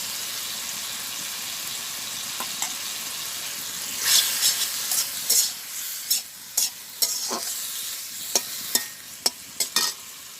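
Green chilies sizzle steadily in a hot frying pan in a village kitchen, with a spatula scraping and stirring in irregular clacks, growing more frequent toward the end.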